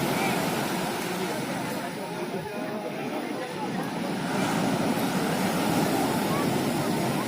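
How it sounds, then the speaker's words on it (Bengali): Sea waves at Digha beach at night, a continuous roaring surf wash with wind buffeting the microphone, with a person speaking over it. "ঢেউয়ের আওয়াজটা নিশ্চয়ই শুনতে পাচ্ছেন"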